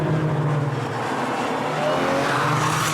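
Ferrari 575 braking hard from around 150 on a race track, a loud, steady engine roar with tyre noise running continuously close by and no talk.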